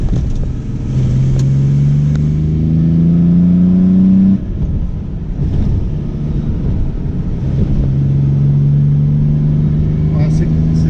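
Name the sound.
Jaguar XJ6 engine revving with triple SU carburettors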